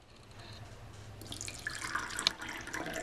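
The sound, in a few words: pouring water into cups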